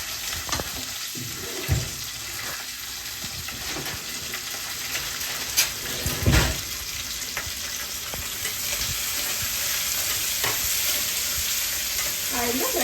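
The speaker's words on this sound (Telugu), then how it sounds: "నేను కొద్దిగా ఎక్కువగా ఉల్లిపాయలు వేసుకోండి చాలా బాగుంటుంది" Onions frying in a pan for pea kurma, a loud continuous sizzle with the scrape and clatter of a spoon stirring now and then, close up with no voices.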